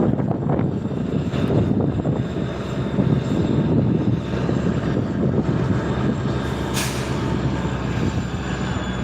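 A locomotive in a Stevens Point, Wisconsin rail yard rumbles with a loud, steady low engine drone that holds continuously, with a brief higher hiss partway through.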